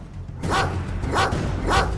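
A dog barks three times in a steady rhythm, close and fairly loud over a low background hum, in a dramatic scene where the dog has attacked a kitten.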